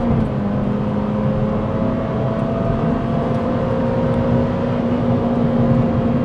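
A Honda Civic Type R EP3 engine, completely standard, drones loud and steady at high revs above 8,000 rpm, a constant close whirring roar with no speech.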